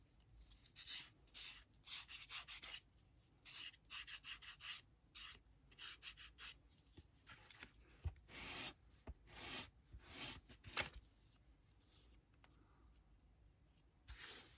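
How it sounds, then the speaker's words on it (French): A small file rasps against the edges of a paper label in a scrapbooking craft, making repeated short scraping strokes in uneven bursts that are close and fairly soft, with brief pauses between them. "avec ma petite lime, venir donner un petit coup pour enlever les minons"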